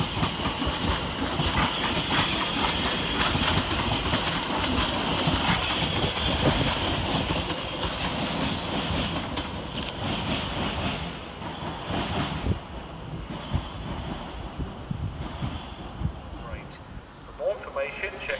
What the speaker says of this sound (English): Next up to depart is 710-261 with the 14:45 London Overground service to Watford Junction.